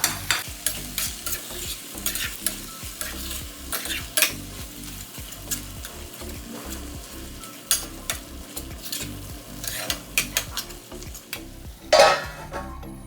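Tomato gojju, made without garlic or onion, sizzles in oil in a pan while a spoon stirs it in repeated, rhythmic scraping strokes, close and clear, with a louder clatter near the end.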